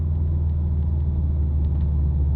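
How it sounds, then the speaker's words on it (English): McLaren 720S engine as the car passes, a steady deep low rumble that stays loud and even throughout the short stretch, with no voices. "That was a McLaren 720S."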